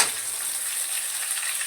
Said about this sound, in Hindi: इसको भी हम मटर के दाने को थोड़ा समय भूनेंगे